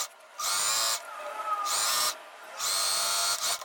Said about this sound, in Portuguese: Vou fazer acabamento também no zigue-zague.